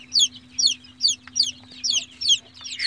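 A hen clucks in short, evenly spaced calls, about seven in three seconds, close by with a low steady hum underneath.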